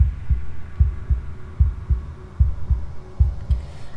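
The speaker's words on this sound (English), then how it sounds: "Oh, the heartbeat." A low, steady heartbeat from the video game Slay the Princess, thumping in paired lub-dub beats about once every half second over a faint hum, with no voices.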